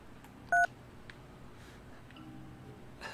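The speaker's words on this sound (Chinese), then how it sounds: "哎，拨一下119" One short dual-tone beep from a telephone keypad while dialing 119 in the puzzle video game Agent A, a single crisp press followed by faint ticks over a quiet background.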